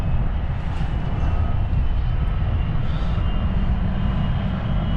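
An airplane roars on takeoff at the Thunder over Louisville airshow, a broad, steady engine rumble held at constant loudness throughout, with no voices over it.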